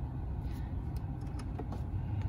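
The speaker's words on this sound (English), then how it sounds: "So I'm gonna turn on the AC." Steady low whooshing rumble of the air conditioning running inside a VW Polo or Ford Fiesta cabin, a continuous even blow with faint small clicks and no talking.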